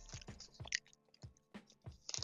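Close, quiet chewing of Mr Beast Feastables chocolate with almonds, a steady run of soft crunchy bites and mouth squishes with no talking.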